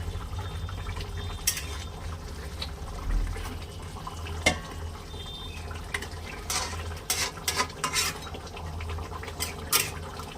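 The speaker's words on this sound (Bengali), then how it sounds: "তো এখন ঢাকনাটা খুলে একটু নাড়াচাড়া করবো হালকা হাতে।" Snakehead fish curry being stirred gently in a pot, with liquid sloshing and bubbling under a low hum, punctuated by several sharp clinks and scrapes of utensil against the pot, close by.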